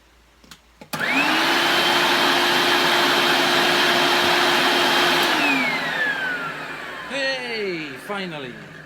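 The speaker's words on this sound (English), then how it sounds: "I'm going to plug the vacuum in" A Hoover Celebrity Trio vacuum cleaner switches on with a sharp click and runs with a loud, steady motor whine, then spins down with a falling pitch as voices come in near the end.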